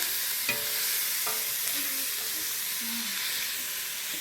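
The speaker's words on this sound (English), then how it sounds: "we're going to cook those onions and garlic a little bit and let them get going" Onions and garlic frying in a pan give a continuous close sizzle, with a couple of light utensil taps and faint background tones.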